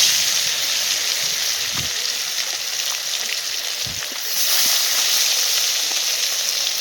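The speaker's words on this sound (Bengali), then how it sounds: "উল্টে পাল্টে লাল লাল করে ভেজে নেব বন্ধুরা।" Rohu fish, coated in turmeric and salt, frying in hot oil, giving a steady close sizzling hiss that swells a little louder near the end, with a few faint knocks underneath.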